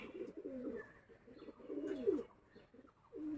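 A small female pigeon coos in a series of low, rolling calls, fairly close and quiet, with brief pauses between them and no voices.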